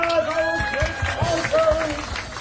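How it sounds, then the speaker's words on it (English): A crowd at an outdoor car show gives a round of applause, scattered clapping and some cheering under sustained tonal background sound, moderately loud and diffuse. "Give them a round of applause."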